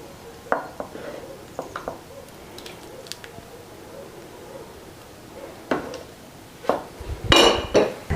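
A plate and dishes clink while spring greens are served, with scattered sharp knocks and taps at close range that build into a louder cluster of clattering at the end.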